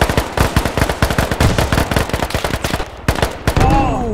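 Rapid bursts of video game gunfire rattle steadily and loudly through the scene, with a space-combat setting and players chattering over the shots.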